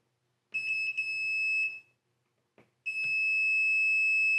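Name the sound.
multimeter continuity beep testing thermostat wires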